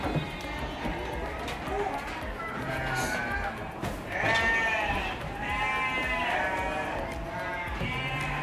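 Garut sheep kept for fattening bleat again and again in a crowded pen of about 230 head, several animals calling at once close by, with people talking and faint shuffling among them.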